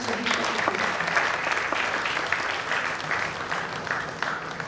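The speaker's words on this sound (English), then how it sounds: "A huge round of applause for Mr. Deepak" Large audience applauding at a college awards event, a thick, even wash of clapping from many hands that holds steady and tapers slightly toward the end.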